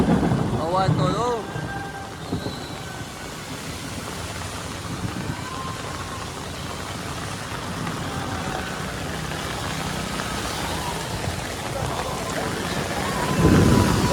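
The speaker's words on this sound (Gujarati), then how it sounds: "ધોમે ધોમ વરસાદ પડે." Heavy rain pours during a violent storm in Surat, a steady dense roar with a low rumbling undertone and an engine idling nearby, while voices talk over it.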